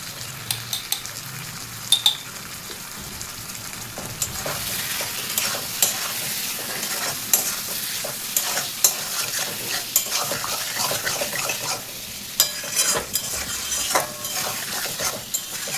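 Salted mutton pieces stir-fried in a pan for a Bengali curry, with a continuous soft sizzle and frequent clinks and scrapes of a spatula against metal, steady and close, with no voices.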